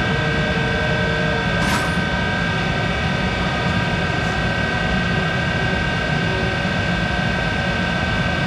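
Commercial barrel lapping machine running at speed, a loud continuous whir with steady tonal hum and a brief high-pitched squeal near the start.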